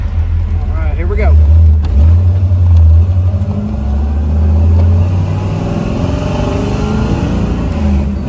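A 1969 Chevrolet Camaro Indy 500 pace car convertible with a 396 V8 pulls away on a test drive, its loud low engine rumble rising and dropping as it shifts through the gears, with a voice talking over it.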